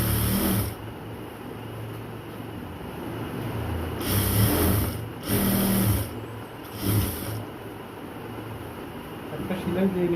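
A sewing machine stitches a dress in several short whirring bursts of a second or so each, separated by pauses over a low background hum.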